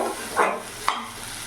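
Rui fish curry with ginger and cumin paste being stirred in a pan, with two short scraping strokes of a spoon against the pot, close and fairly quiet with no talk.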